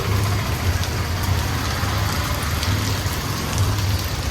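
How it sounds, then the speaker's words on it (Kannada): Steady heavy rain hisses without pause, with a low rumble of passing traffic beneath it. "ಮಳೆ ಜೋರಾಗೋಯ್ತು"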